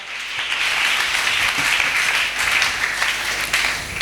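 A church congregation applauds, a dense, steady wash of clapping from many hands that stays loud and even throughout, with no voices rising above it.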